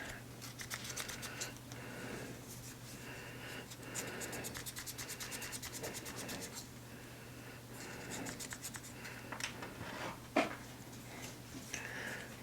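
A Lew's baitcasting reel is scrubbed clean of gunk, a quiet, close, continuous brushing and rubbing with quick back-and-forth strokes and a single sharper click near the end.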